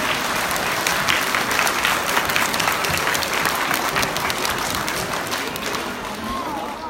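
An audience at a Diwali whanau gathering claps for the children in sustained, dense applause that stays loud and even for several seconds, with some crowd voices mixed in.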